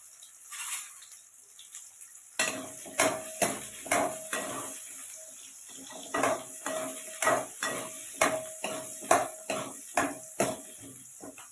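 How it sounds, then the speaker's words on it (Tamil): Small onions sautéing in a pan for a fish curry, with steady rhythmic scraping and clinking of a utensil stirring against the pan over a soft sizzle. No one speaks. "வெங்காயம் நல்லா வதங்கட்டும். வெங்காயம் வந்து நல்லா வதங்கிடுச்சுங்க."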